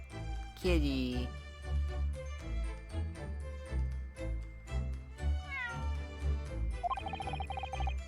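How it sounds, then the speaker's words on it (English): A cat meows in the video game Great Ace Attorney, several distinct cheeky meows spread across the clip over background music, with a chime-like game sound near the end. "That was a cheeky little meow, Wagahai."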